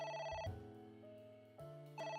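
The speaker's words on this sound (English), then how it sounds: "A phone. Should I pick it up?" A telephone rings in the video game AI: The Somnium Files, a steady tonal electronic ring that briefly shifts pitch and then resumes, moderately quiet, with no talk over it.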